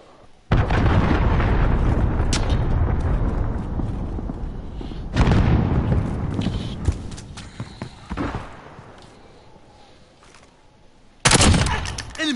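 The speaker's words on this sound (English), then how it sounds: "Allied cruise missile launched." A cruise missile in Call of Duty Modern Warfare strikes with a sudden loud blast, followed by further heavy booms and bursts of gunfire, separated by quieter gaps, with faint voices in places.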